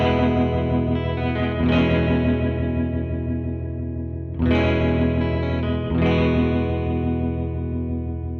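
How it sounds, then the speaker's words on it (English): Sustained distorted electric guitar chords ring out through a short, tight pedal reverb with medium trails, new strums cutting in and each decaying into a moderate wash. "This is the same as the first reverb, a tight reverb with medium trails."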